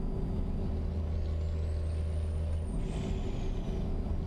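A Cummins N14 truck engine in American Truck Simulator drones at steady revs with a deep, constant low hum and a faint whining tone on top. No one talks.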